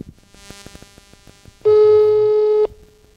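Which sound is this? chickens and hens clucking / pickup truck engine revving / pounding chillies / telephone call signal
telephone call signal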